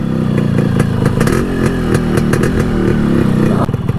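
A Yamaha RX135 motorcycle engine runs close by with a loud, throbbing idle and a few uneven bursts of revving.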